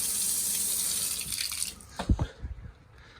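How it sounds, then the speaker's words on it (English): Water runs from a tap on a home plumbing system with a pressure regulator, a steady hiss of flow for about a second and a half that fades as the tap closes, followed by a few close knocks and drips. "I'll draw off a little water."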